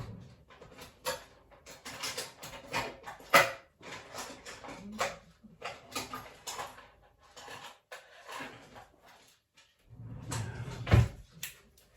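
A kitchen drawer is opened and rummaged through while searching for tongs: a series of clattering knocks and sliding scrapes, irregular bursts separated by short pauses, close by and without talk.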